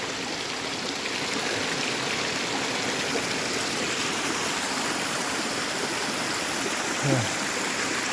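Creek water pouring over a natural dam of rocks and moss, a steady close rushing and splashing that fills the whole clip with no pauses.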